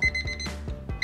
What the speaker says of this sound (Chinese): 来我们听一下它这个闹钟的声音哈